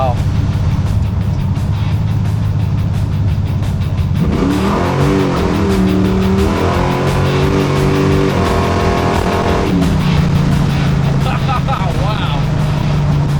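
A 1968 Chevy Chevelle Malibu with an 840 HP big block engine rumbles loudly and steadily, its deep revving tone shifting pitch as the throttle is eased on, with a person talking over it.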